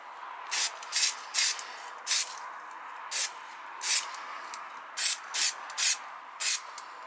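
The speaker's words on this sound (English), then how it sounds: "then I spray it with body filler or body primer" Short bursts of spray from a can of body primer coating 3D-printed rims for a 1/10 scale Audi Rotor model, about a dozen separate hissing sprays with quiet pauses between them.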